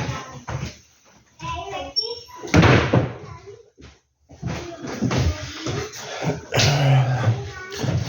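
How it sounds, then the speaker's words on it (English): Doors being shut indoors, with a loud thump partway through and shuffling movement, mixed with a voice and talk throughout. "let me close the doors here"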